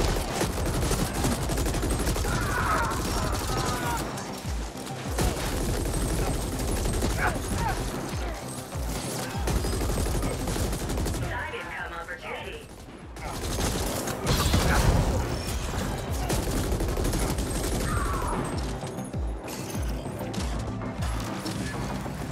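Heavy machine gun fire in a top-down shooter video game, sustained dense bursts of rapid shots with crashing impacts and mechanical clatter, loud and continuous throughout, with game voice and talk mixed underneath.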